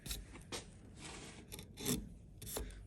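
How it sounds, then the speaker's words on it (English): A chisel is pressed into wood to cut a V notch for a halving joint, producing soft, close rasping scrapes in short repeated strokes at a low level. "around about half the chisel at a time, and I'm just going to press into the wood, and I'm going to create a V, or the notch"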